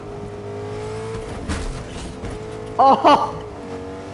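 A truck engine in the Fortnite video game drones steadily and revs up in a couple of short loud bursts near the end, with a brief shout over it.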